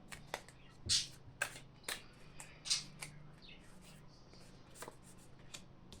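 Crisp papery riffles and slaps of tarot cards being shuffled, several short bursts in the first few seconds, then softer handling over a faint background hum.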